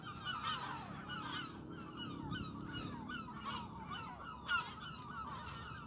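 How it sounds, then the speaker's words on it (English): Seagulls call excitedly and repeatedly at a fishing spot, a dense overlapping chorus of harsh, goose-like squawks and honks, fairly loud and continuous with no talking. "Seagulls are going mad with these bangs."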